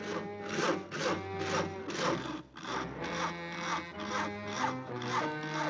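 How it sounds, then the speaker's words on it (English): A handsaw cuts through wood in steady back-and-forth strokes, about two per second, close and rasping, with no voices. "Isn't that your house Harry is sawing on?"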